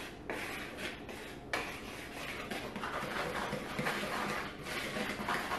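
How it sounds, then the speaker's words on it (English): Dry ingredients with cinnamon being whisked in a bowl for carrot cake batter, a soft continuous scraping and rubbing, close and fairly quiet, with no talk. "we're gonna whisk this up real quick"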